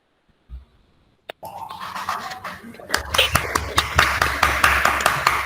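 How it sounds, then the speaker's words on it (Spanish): Group applause from a gathering after a talk, starting faintly and swelling into steady, dense clapping that fills the last couple of seconds, with a few brief voices early on. "hagamos un aplauso generalizado"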